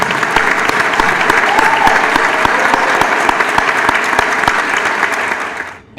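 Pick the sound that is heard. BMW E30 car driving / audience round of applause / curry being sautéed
audience round of applause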